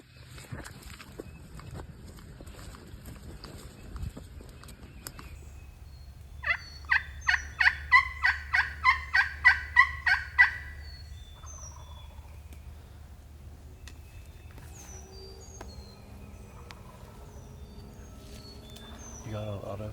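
A wild turkey gobbles during a spring public-land hunt in Tennessee, a clear rapid burst of repeated gobble notes from moderate distance, with soft rustling and low background hum around it.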